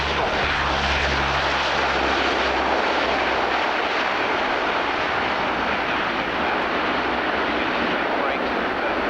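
A tactical airlift transport aircraft lands at the 1990 RAF Abingdon airshow, its engines producing a loud, broad, steady roar that stays constant throughout, with a low rumble fading early on.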